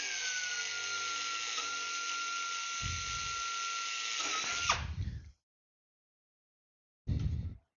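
Power drill boring through aluminum aircraft skin on a homebuilt airplane flap, a steady close whine for about five seconds that winds down, then a brief second burst after a pause.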